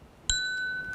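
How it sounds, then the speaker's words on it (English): An artificial alert ting, a single bright bell-like ding struck once and ringing on with a sustained, clean tone, alone against faint background. "that ting is just an artificial alert"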